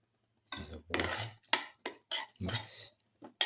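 A utensil stirs a split chickpea and spinach mixture in a metal pot, producing a series of close scraping and clinking strokes in irregular bursts with short pauses between them.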